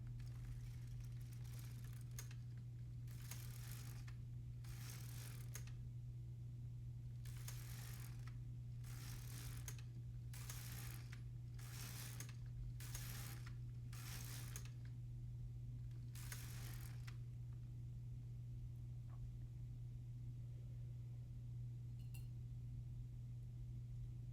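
An LK150 knitting machine carriage is pushed back and forth over ribbing rows, giving a regular series of short mechanical clacking swipes over a steady low electrical hum, then falling quiet.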